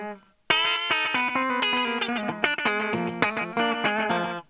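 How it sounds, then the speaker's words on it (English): Electric guitar played through a Memory Man delay with tape slapback, a quick run of distorted notes starting after a brief pause, each pick attack followed by short echoing repeats that blur into a dense, chorused wash. "I put up the mix a little bit on the slapback, and now I'm back on the memory man"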